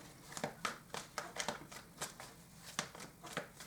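Tarot cards being shuffled and drawn by hand, a close, crisp series of rhythmic riffling snaps and papery flicks repeating about every half second, fairly soft in a quiet room.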